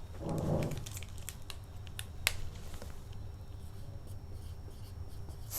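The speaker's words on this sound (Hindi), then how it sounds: "तो यहाँ पर हम लोग लिखते हैं" Chalk or marker writing out an equation during a fluid-mechanics lecture on manometers, heard as a run of sharp taps and scratchy strokes close by over a low room hum, with no talking.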